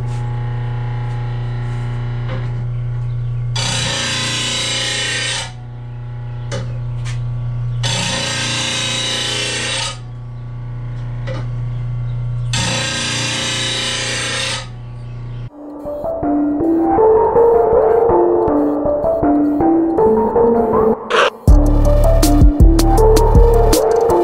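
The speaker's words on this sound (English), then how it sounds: "Let's sharpen up some 52 inch blades. 52 and 36 inch blades." Sharpening 52 and 36 inch mower blades with a power tool: three loud grinding bursts separated by short pauses, then a harsher, rattling metallic grinding that grows louder toward the end.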